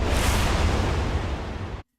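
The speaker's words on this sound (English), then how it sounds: "We have whooshes," A full, rushing whoosh of dense noise holds steady for under two seconds, then stops abruptly into silence.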